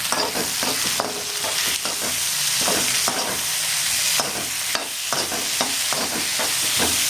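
Onions and tomatoes sautéing in a pan, a continuous sizzle with repeated scraping strokes as a spoon stirs them, close and moderately loud, with no voices.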